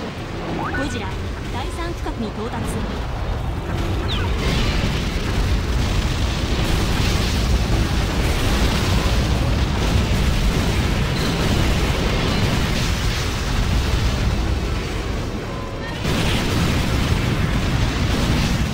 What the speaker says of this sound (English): sometimes when you have tons of explosions like that, this game slows down